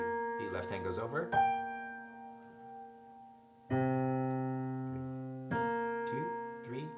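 A solo piano plays the melody in the left hand in slow, sustained notes that ring and fade, with separate phrases set apart by pauses and faint traces of a voice in between.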